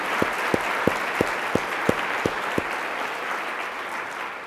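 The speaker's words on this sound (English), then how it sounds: "Let's give them another round of applause." Audience applause at an Exercise is Medicine keynote forms a steady wash of clapping. A few sharp, evenly spaced claps stand out over it before the sound thins.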